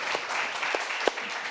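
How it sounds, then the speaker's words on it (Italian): An audience applauds after an academic presentation on expanding the body with intelligent technologies: a short burst of crowded clapping with a few sharper individual claps standing out. "grazie mille Emiliano, facciamo un applauso"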